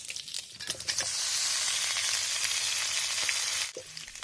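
Lai xaak greens hit a hot wok and burst into a loud, steady sizzling hiss that holds for about three seconds before dropping off abruptly.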